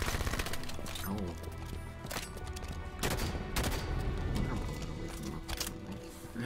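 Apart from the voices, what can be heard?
SMG and battle rifle gunfire in Halo 5 video game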